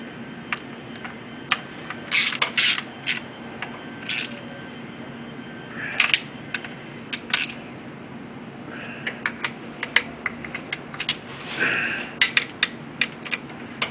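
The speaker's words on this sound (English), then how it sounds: "all our bolts on the oil pan are tight" A wrench tightens the oil pan bolts on a 2003 Audi TT automatic transmission, producing scattered close metallic ticks and clicks at an irregular pace over a steady low background hum.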